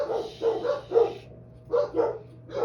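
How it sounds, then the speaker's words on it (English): A dog barks in two short bursts of several yaps each, fairly close, with a quiet pause between. "if you enjoy listening to dogs barking"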